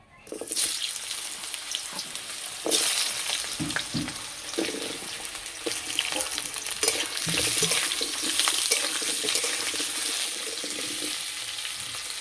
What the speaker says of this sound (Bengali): এই তেলে আমি আলু ভেজে নেব।